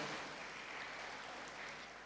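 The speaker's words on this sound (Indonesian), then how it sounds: "Kita kasih tepuk tangan untuk beliaunya." Steady, faint applause from a large audience at a university graduation ceremony (Wisuda) in Probolinggo, a dense wash of clapping that holds evenly throughout with no voices.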